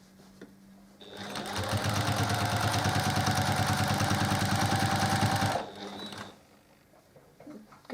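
A sewing machine stitches binding onto a quilt in one loud, continuous burst of about four seconds, with quiet handling before and after it.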